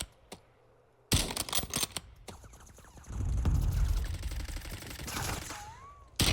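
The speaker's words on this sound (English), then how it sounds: "He's shooting at us through a rock." Gunfire from a rival player in the video game Warzone, a burst of shots starting after a quiet opening, followed by sustained loud rumbling action noise and further sharp cracks near the end.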